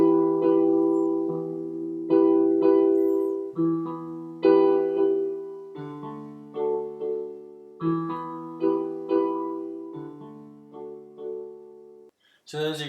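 Solo piano playing the chorus of a song leading into the verse, with steady chords and bass notes struck at a slow, even pace, clear and close, and no voice.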